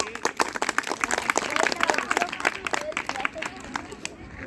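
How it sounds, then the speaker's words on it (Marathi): A quiz audience breaks into applause after a team is awarded points, with dense, steady clapping from many hands that lasts throughout and stays fairly close. "त्यांच्यासाठी टाळ्या वाजवा सर्वांनी"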